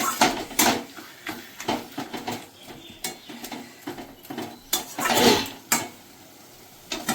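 Loitta fish being stirred and fried with spices in a pan, giving scattered clinks and scrapes of a utensil against metal over a soft frying sizzle, close and irregular.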